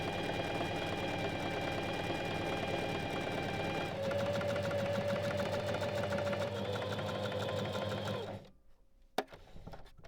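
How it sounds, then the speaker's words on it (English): A domestic sewing machine runs steadily, stitching a fabric seam with a 1 cm allowance in a continuous mechanical whir and rapid needle patter for about eight seconds, then stops abruptly with a single click. "stitch along the edge with a 1 cm seam allowance"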